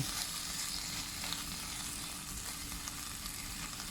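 Shrimp sizzle and crackle steadily in a hot flat pan with a little water, a constant stir-frying hiss with occasional stirring, close and moderately quiet.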